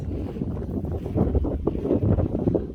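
Outdoor wind on the Gibb River Road in the Kimberley, a steady low rumbling buffet across the microphone that swells slightly midway, with no voices.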